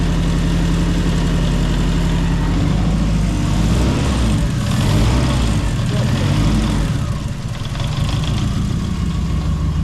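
Turbocharged Zetec engine in a Mk2 Ford Fiesta idles loudly and close up with a misfire, giving a steady, dense rumble that wavers slightly over ten seconds.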